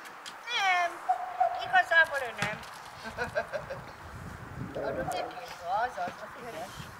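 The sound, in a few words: cats meowing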